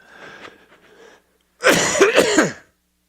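A man at a lecture coughs: a soft rough throat sound first, then after a short pause a loud close burst of two or three harsh coughs.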